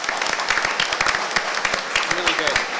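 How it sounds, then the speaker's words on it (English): A crowd at a provincial political debate applauds the moderator, a mix of sharp individual claps over a broader ripple of hands, near and moderately loud, with faint voices underneath. "Can we have a round of applause, please?"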